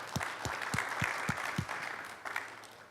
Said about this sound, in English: So if we could give Greg a big round of applause for all that he does.